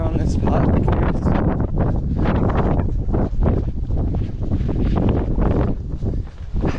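Strong coastal wind buffets the microphone in heavy, continuous gusts with deep rumbling bursts, loud and close, while a runner talks over it.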